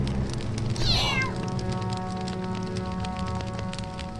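A single drawn-out video game cat meow, rising then falling, close and clear over a steady backdrop of soft rain-like ambience and low hum.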